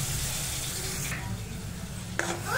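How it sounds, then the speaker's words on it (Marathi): Kolhapuri masala paste with a splash of water fries in oil for shev bhaji, giving a steady, close sizzling hiss with a couple of brief stirring scrapes. "आता छान फ्राय करून घेऊ याला तेल सुटेपर्यंत"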